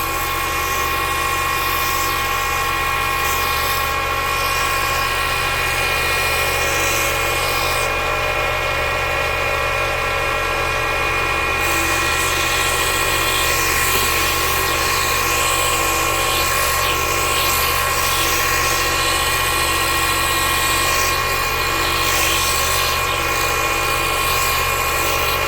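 Wooden toy fence panels are sanded with a power tool, a loud, steady whining hum that holds constant for about twenty-five seconds with no speech.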